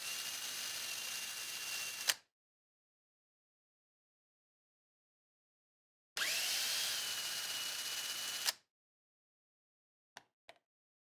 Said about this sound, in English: After that, we remove the mounting bolts attaching the motor to the pump.